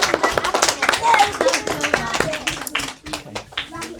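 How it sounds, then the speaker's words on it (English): A class of Year 5 children gives a short round of clapping, uneven and close, mixed with voices talking over it. "So give yourselves a little clap there."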